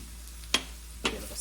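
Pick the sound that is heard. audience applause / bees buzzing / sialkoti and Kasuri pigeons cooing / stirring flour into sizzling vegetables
stirring flour into sizzling vegetables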